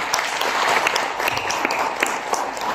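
Applause from the audience at a school cleaners' empowerment ceremony in Mauritius, a continuous spread of many hands clapping at moderate level, steady throughout with no talk.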